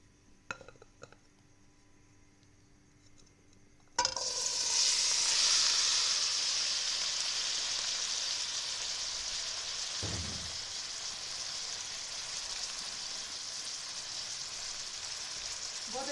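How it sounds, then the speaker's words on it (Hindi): Chickpeas for masala bhunay chanay tipped into hot oil, bursting into a loud, steady sizzle at about four seconds that carries on to the end, after a few faint clinks and quiet handling sounds. "हम ऑयल डाल रहे हैं, और डालेंगे अब हम अपने चने"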